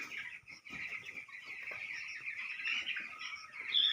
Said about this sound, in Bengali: 2000 মুরগি আছে 2100 মুরগি